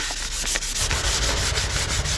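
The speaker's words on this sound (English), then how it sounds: "I just need to get some sandpaper, give her a nice sanding off" Steady, continuous rasping of sandpaper scrubbing back and forth on a surface, loud and close, with no voices.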